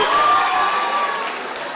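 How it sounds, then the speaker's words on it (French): A French high school audience gives restrained applause and light cheering, a short steady crowd wash with a voice or whoop rising above it, fading slightly toward the end. "on applaudit mais gentiment"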